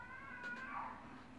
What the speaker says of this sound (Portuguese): Olha os gatos.